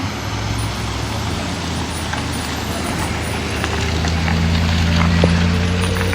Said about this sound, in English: may school bus dito.